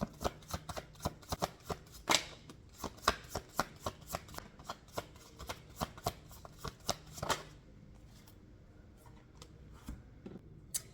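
Light Seers Tarot cards being shuffled by hand, a quick run of crisp riffling flicks and slaps repeating for several seconds, then easing into quieter, sparser handling toward the end, with no talk.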